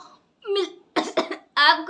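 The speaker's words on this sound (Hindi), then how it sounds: "मेरे को खांसी आ रही है बहुत ज़्यादा" A few short, harsh coughs in quick succession, close and fairly loud, with voiced throaty bursts between brief pauses.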